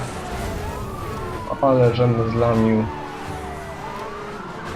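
A police car siren in the Hot Pursuit racing video game wails in rising and falling sweeps behind game engine noise, with a brief louder burst in the middle while someone talks.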